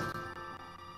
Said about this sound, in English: Oh, hang on. There's the phone.